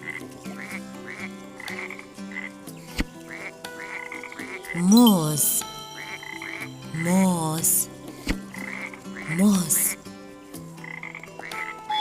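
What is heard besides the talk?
frog croaking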